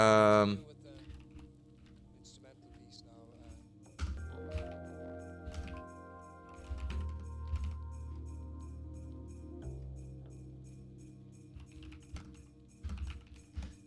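Typing on a computer keyboard, quiet irregular bursts of key clicks and taps at close range with some soft background sounds, continuing through the clip.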